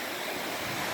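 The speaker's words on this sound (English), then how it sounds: "And running water like this is very therapeutic, and it's awesome to sleep next to." A stream runs beside a snowy winter car-tent campsite, giving a steady, dense broadband rush of flowing water, close and continuous, with no voices.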